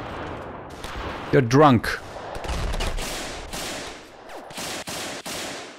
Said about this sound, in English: Stop using that machine gun.